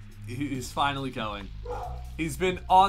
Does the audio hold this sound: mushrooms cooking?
no